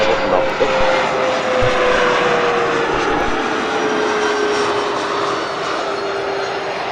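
General aviation aircraft taking off at Spirit of St. Louis Airport, a steady loud engine drone with a propeller-like tone that holds throughout and eases slightly near the end, with no talk.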